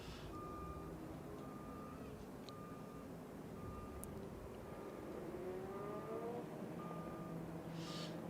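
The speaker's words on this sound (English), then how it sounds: "Probably hear the reverse beeper" A track services truck's reverse beeper at Canadian Tire Motorsport Park during the Chevrolet Grand Prix race, repeating evenly spaced tonal beeps at moderate distance over a constant background rumble of engines and crowd.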